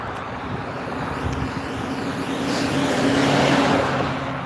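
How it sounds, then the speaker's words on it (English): A truck drives past on a snowy road, its broad road noise swelling from a distance and peaking loudly near the end before starting to fade. "truck going by"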